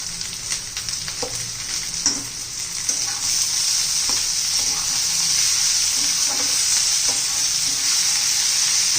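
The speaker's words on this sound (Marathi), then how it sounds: "छान असा टोमॅटो मऊ होईपर्यंत आपण मसाला चांगला परतून घेणार आहोत" Tomato and masala being sautéed in a pan for paneer masala, with a bright, steady sizzle up close and soft intermittent stirring scrapes early on, the frying hiss growing fuller and more even, no speech.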